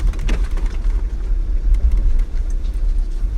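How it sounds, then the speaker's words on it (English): Cabin noise inside a 2013 Mercedes ML rolling over a road bump, with a steady low road rumble and a soft thump near the start, no talking. "We're just going to go over a bump."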